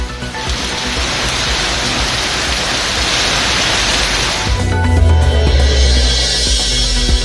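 A light early-morning drizzle falls over Chennai as a steady hiss of fine rain, joined midway by a low rumbling hum in the background.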